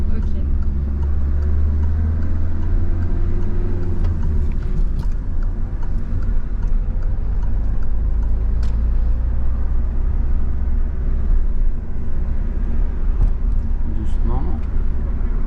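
A car moves along during a driving lesson, pulling away again after braking, with a steady low engine rumble and road noise running throughout beneath occasional talk from the people inside.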